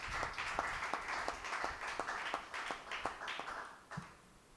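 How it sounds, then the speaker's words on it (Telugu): A small congregation at a Telugu Holy Mass claps in a sparse, fairly steady rhythm, each clap sharp and distinct against a quiet room, fading out near the end. "బ్రదర్ గారు గట్టిగా చప్పట్లు కొడదాము."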